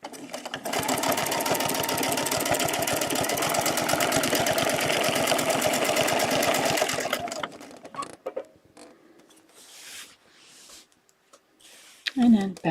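A sewing machine runs steadily for about seven seconds, stitching a feather design along a template, with dense rapid needle chatter; it then stops, leaving faint handling sounds and a brief voice near the end.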